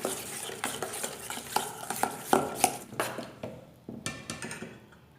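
Chicken pieces are mixed with turmeric and coriander powder by hand or spoon, a quick run of wet, squelching stirs and light clinks in a bowl, close and alone with no talk.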